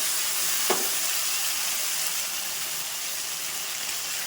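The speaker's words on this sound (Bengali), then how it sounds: "আমি কিন্তু ভালো করে প্রায় ভেজে নিয়েছি আর এইবারটা দেখো দিয়ে দেব লঙ্কা আদা বাটা জিরে বাটাটা" A paste of ground chili, ginger and cumin sizzling steadily as it fries in a pan of hot oil, a continuous hiss with one brief spatter near the start.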